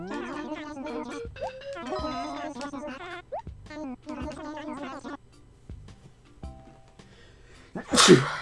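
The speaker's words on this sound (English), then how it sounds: "I think I'm gonna sneeze again too." After several seconds of melodic tones and quiet, a single loud, sharp sneeze bursts out close by at the end.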